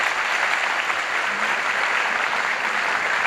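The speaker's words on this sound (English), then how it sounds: "let's make the final round of applause for Michal" Audience applause at the close of a session at GHOST Day, a machine learning conference, steady dense clapping throughout, fairly loud and even with no pause.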